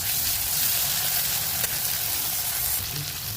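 Onion and potatoes fry in a pan for a vegetable pulao, giving a steady, loud, broadband sizzle that runs without a break and with no voices.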